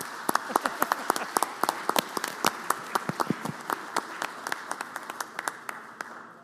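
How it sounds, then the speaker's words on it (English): A small group claps in a state senate chamber, sharp separate claps at an uneven rhythm that thin out and fade toward the end. "give him a round of applause"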